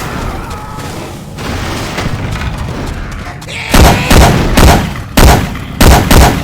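Syphon Filter weapon sounds in Left 4 Dead 2, loud repeated booming gunshots in close bursts after a stretch of rumbling background game noise, with a voice heard faintly.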